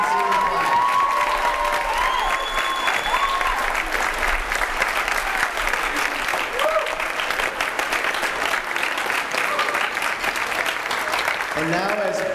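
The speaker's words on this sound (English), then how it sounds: "please stand up and let's get a round of applause" A crowd at a high school spring orchestra concert applauds steadily throughout, a dense wash of clapping with some cheering for the senior class, while a voice speaks over it.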